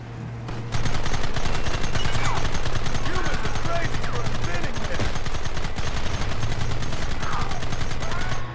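A mounted gun fires from a moving vehicle in Red Dead Redemption, a loud, rapid, unbroken stream of shots lasting several seconds over low engine rumble, with shouted voices mixed in.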